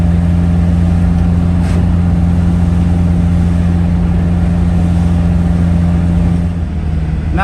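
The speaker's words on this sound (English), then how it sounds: "for a car that is climbing." A car's engine labors up a steep hill in a steady, loud, low drone with strong even harmonics, holding constant throughout with no talking.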